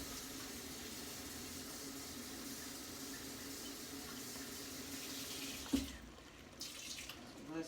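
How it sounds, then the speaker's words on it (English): Tap water runs in a steady, moderately faint stream while chili is being made in a kitchen, then cuts off near the end, leaving a few soft clatters. "I'm going to add some more water up in there."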